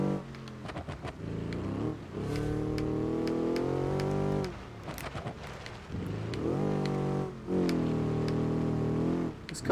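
Rear-engine rally car in the BeamNG.drive driving game on a small island rally stage, its engine revving hard in repeated bursts, dropping off between shifts with brief clunks and impacts, close and loud with no talk.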